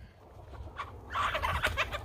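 Chickens being let out into a worm composting area: a near, busy burst of clucking and gobble-like calls that grows louder halfway through and stays lively to the end.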